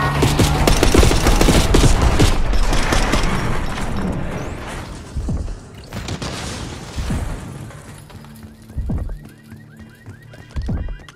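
Heavy gunfire from a street ambush in Call of Duty Black Ops 6, a loud sustained fusillade of rapid shots and booms that thins into scattered bursts and single cracks.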